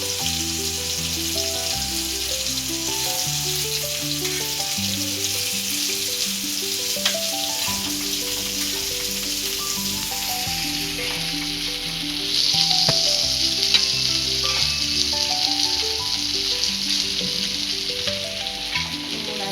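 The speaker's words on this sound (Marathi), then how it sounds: "व्यवस्थित फ्राय झालेले आहे." Malvani-style surmai (kingfish) fries in a pan on a low flame, with a steady, close sizzle over background music that grows slightly louder partway through.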